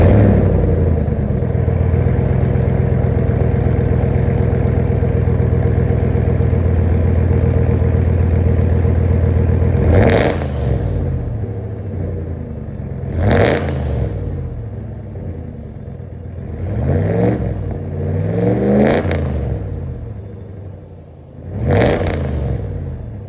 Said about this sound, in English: the muffler delete is louder, but it certainly does not sound tuned, and it gets real gross anything above idle